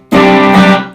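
An electric guitar is struck hard through an effects setup with no compression, giving a sudden loud jump into a thick, sustained, slightly distorted chord that rings alone for almost a second before easing off.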